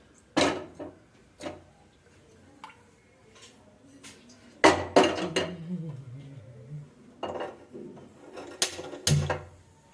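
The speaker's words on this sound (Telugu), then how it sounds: "కుక్కర్ పెడదామా" A pressure cooker being set up in a kitchen brings sporadic metallic clanks, knocks and clattering of pots and lid, separated by quiet pauses.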